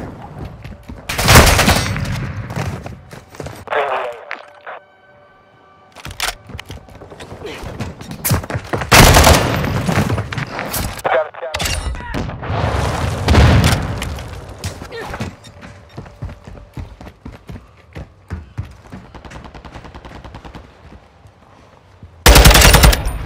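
Gunfire in Call of Duty: Modern Warfare II free-for-all, loud bursts of automatic fire and single shots recurring across the clip with quieter gaps between them, mixed with in-game mechanical clatter while players talk.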